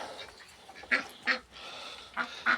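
A handful of short, nasal duck quacks, two then two more, fairly close against a quiet background.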